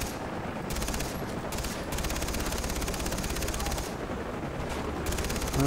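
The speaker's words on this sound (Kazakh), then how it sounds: "Қайықтан атып атыр." Rapid bursts of automatic gunfire from a boat in a video game roll on almost without pause, loud and dense throughout, with brief dips between volleys.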